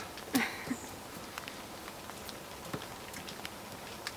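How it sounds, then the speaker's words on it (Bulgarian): Light tropical rain at the start of the rainy season patters softly and unevenly on surfaces, with scattered faint drips and a couple of slightly louder taps. "Почна дъждовния сезон."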